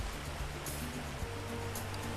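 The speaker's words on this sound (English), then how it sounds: "those waves have a tremendous amount of power too" Ocean waves crash onto the rocks at Cape Spear, a dense, loud surf roar with rumbling low churn and brief hissy splashes near the middle and end, close by and with no voices.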